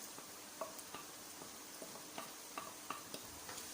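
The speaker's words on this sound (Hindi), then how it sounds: "अब हम इसके अंदर प्याज डालते हैं और प्याज को हल्का लाइट पिंक कर लेते हैं।" Onion fries in oil with tomato, garlic-ginger paste and green chilli paste for a meat and tinda curry, a faint steady sizzle broken by light spoon taps against the pot, with no voices.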